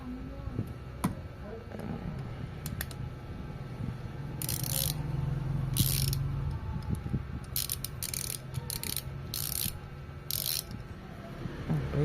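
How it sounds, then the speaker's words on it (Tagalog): Torque wrench ratcheting on a bike bolt being tightened to 5 Nm: a series of short, sharp clicks comes in separate clusters over steady low background noise, fairly close. "Ayun, tutunog siya pagka nasa tamang torque ka na."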